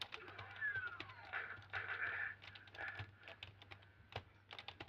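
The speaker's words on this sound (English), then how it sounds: "I'm playing with a pretty bad keyboard, just a cheap, stiff USB keyboard, and no mouse." Rapid, uneven clacking of keys on a cheap, stiff USB computer keyboard, steady and close, with a low hum running beneath the strokes.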